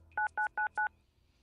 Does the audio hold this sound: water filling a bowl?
no